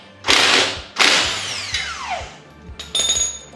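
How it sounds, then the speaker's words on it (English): Impact wrench working a bolt loose on the CV axle of a 2010 Mazda 3, loud close buzzing bursts of rapid hammering, the second winding down in pitch as the bolt spins free, followed by a shorter burst, no talking. "So you're gonna impact this off while holding the other side with a socket and a wrench"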